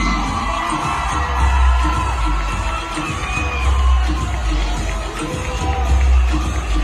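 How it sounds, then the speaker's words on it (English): Studio audience cheering and whooping after a call for a round of applause for the top of the stage, a loud steady crowd roar with shouts throughout, rising and falling in waves. "Ladies and gentlemen, a round of applause for the top of the stage."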